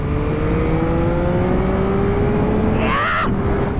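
A 2023 Yamaha XSR900 retro motorcycle's engine drones loud and close, its pitch climbing steadily as it revs, then flares into a brief sharp burst near the end.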